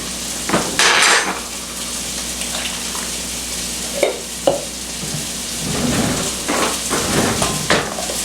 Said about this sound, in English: I'm going to whisk that